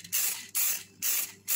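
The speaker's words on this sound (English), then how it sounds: "So do a quick test spray to cure the nozzle" Warmed acetone-based aerosol spray paint fired from the nozzle in a quick test, four sharp, close hissing bursts separated by brief silences.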